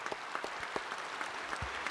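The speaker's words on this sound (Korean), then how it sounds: "여러분 더 크게 박수하십시다" A church congregation at a Korean worship service applauds, the clapping faint and distant with scattered sharper claps standing out over a soft room wash.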